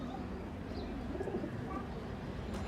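Pigeon cooing from a loft of racing pigeons, low soft coos repeating steadily against a constant background hum, with no talk.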